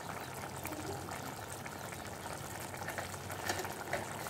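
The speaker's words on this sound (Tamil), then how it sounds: "நல்லா இது கொதிக்கட்டும்." A pot of dried fish gravy bubbling on the stove, a soft, continuous simmering hiss with faint bubbling, close and steady throughout.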